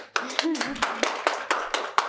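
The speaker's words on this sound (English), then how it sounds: "So round of applause." Small group at a girls' collective session clapping to welcome a speaker, a handful of distinct hand claps in a loose rhythm with a voice speaking over the start.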